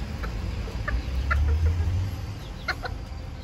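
Bantam mini chickens, including a costly Cirama breed, cluck in a farmyard with a few short, sharp calls scattered over a low rumble of background noise and no talk.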